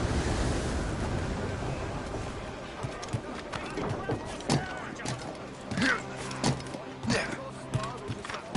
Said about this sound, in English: It's quite a rough squall, Captain